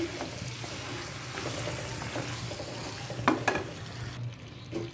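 Beef pieces with bone and fat frying in a pan for a potato and beef curry, a steady close sizzle with a few sharp bursts of spattering near the end and no talking.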